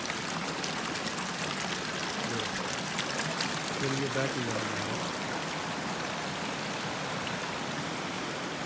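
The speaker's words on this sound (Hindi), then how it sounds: "ये पानी का ये चश्मा बिल्कुल यहाँ से ही जमीन से पानी खींच के ऊपर बाहर निकल रहा है।" Spring water wells up from the ground in Central Karakoram National Park, Gilgit-Baltistan, making a steady, faint trickling and bubbling wash, while someone speaks briefly over it.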